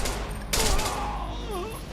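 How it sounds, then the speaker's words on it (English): Gunfire from guns in the Wii U video game Devil's Third: one sharp, loud burst of shots lasting a fraction of a second, followed by ringing electronic game tones. "right trigger fires the guns"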